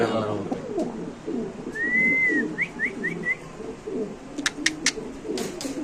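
Pigeons at a pigeon sale, including a young black pigeon, give soft coos and short whistly calls over a steady murmur of voices and crowd noise.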